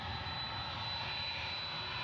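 A FedEx heavy Boeing 767 jet lands on runway 18 right at Memphis International Airport, its engines a loud, steady, close roar with a high whine throughout.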